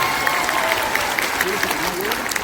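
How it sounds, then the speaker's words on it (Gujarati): An audience claps for Prapti, a dense, steady patter of applause lasting a couple of seconds, with voices mixed into the crowd noise. "એકવાર જોરદાર તાળી થઈ જાય પ્રાપ્તિ માટે"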